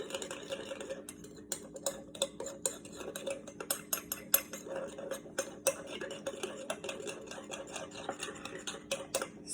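A utensil mixing salmon patty ingredients in a bowl: close, quick, uneven clinks and taps of metal against the dish, repeating steadily over a faint background hum with no speech.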